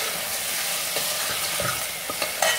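Four or five onions frying and browning in oil for Sindhi-style mutton curry, a dense steady sizzle with occasional soft stirring scrapes and taps close by.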